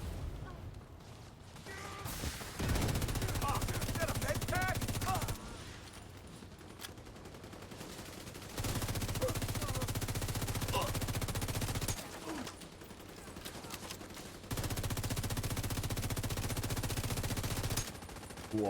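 Gunfire in The Division 2 comes in long bursts of rapid automatic shots, several sustained volleys separated by short lulls, loud and close, with voices talking faintly in between.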